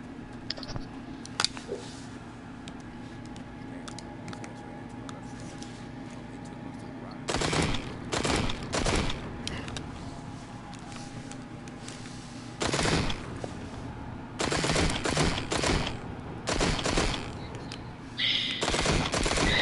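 Bursts of AK rifle fire in the virtual reality game Arizona Sunshine come in several loud automatic volleys of rapid shots, spaced seconds apart, with people talking in the gaps.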